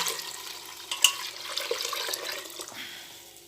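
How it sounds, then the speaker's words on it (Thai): Water splashes steadily into a pot for braised pork leg, a close, rushing pour that tapers off toward the end. "เติม น้ำลงไป แล้วค่ะ"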